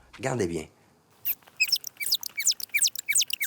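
Humpback whale song sped up fourteen times becomes a quick series of squeaky, rising chirps and whistles, preceded by a short low voice-like call and a brief silence.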